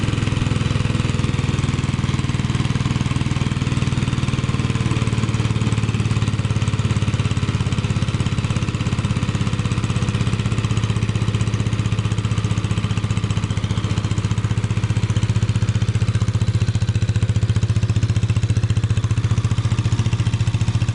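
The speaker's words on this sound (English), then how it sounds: "turn it down to a lowest setting and see what happens. It takes a while for it to wind down." A 1943 Lauson one-and-a-half horsepower air-cooled engine from a WW2 Army Air Corps ground unit drones steadily and close at its lowest setting, with no other sound over it.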